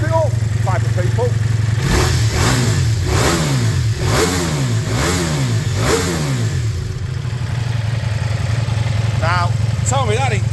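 A Ducati Multistrada V4S motorcycle engine, already warm, fires up and blips through a series of sharp revs over a steady idle, loud and close, with someone talking over it.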